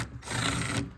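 Power driver backing screws out of a Tahoe truck in a shop, a short, fairly quiet burst of whirring lasting under a second.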